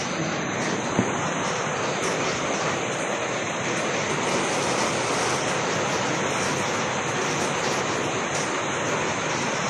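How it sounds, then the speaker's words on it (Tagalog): Heavy rain pours onto a flooded city street corner at Dimasalang Road and Tiago Street, a steady dense roar of falling water and runoff filling the whole stretch with no pauses. "Umulan pa. Umapaw na sa island, oh."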